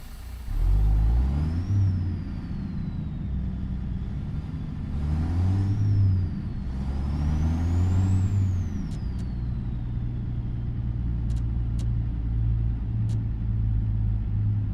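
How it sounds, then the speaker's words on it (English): A heavy truck's Cat C15 engine in American Truck Simulator rumbles and revs up and down, with a hiss of air, steady and loud throughout with no talking, no jake brake. "We just put a Cat C15 King of the Hill motor in"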